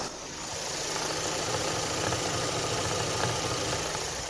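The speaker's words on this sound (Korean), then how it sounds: "SM6 식 차량 엔진 사운드 담아드리기 위해서 본네트 개방 한번 해봤는데요" A Renault Samsung SM6 sedan's 2.0 GDe petrol engine idles steadily up close with the hood open, a smooth, even mechanical hum with faint rhythmic ticking and no voices.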